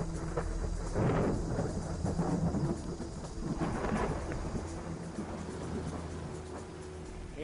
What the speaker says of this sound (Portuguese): Eu espero que esta tempestade traga mais água.